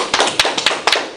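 Students clap in a classroom with a quick run of sharp, close claps: about six distinct slaps spread unevenly over a second, each crisp and loud.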